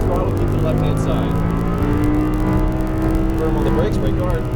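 An Audi R8's engine runs at full throttle on a track, a steady loud drone with a slowly rising pitch under a voice giving driving instructions.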